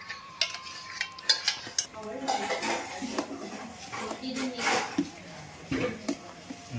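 A spoon stirs mango delight mixture in a bowl, clinking and scraping against the sides in uneven bursts, while someone talks over the stirring.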